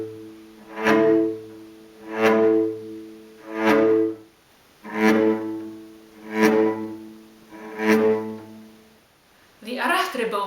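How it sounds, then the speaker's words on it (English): A bowed string instrument plays tango-style dragged arrastre strokes: six evenly spaced swelling notes that slide up into an accent, each separated by short gaps, solo and close, followed by a brief burst of speech at the end. "Now I'd like to show you the Arrastre bowing."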